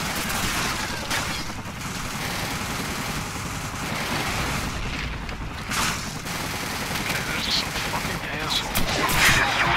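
Rapid bursts of gunfire crackle on and off through the Call of Duty 4: Modern Warfare match, dense and loud, with brief lulls between volleys.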